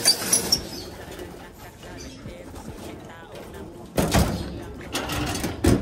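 High flyer tippler pigeons released from a loft burst into flight with loud wing flapping at the start and again midway, over bird calls and a person talking.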